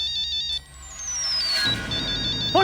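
A mobile phone rings with a bright electronic melody in a tense Hindi TV drama scene, short repeating tones rising and falling at moderate loudness.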